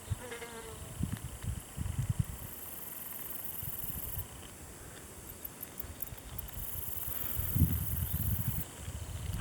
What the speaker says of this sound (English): hopefully it's just crickets